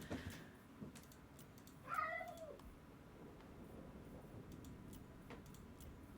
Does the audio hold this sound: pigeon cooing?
no